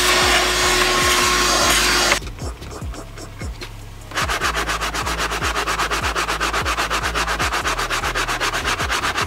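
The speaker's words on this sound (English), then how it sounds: "we'll just vacuum it" A shop vacuum cleans the interior of a BMW F87 M2 car, a loud steady whoosh and hiss with rhythmic rubbing strokes as the nozzle scrubs the upholstery, pausing briefly partway through before resuming.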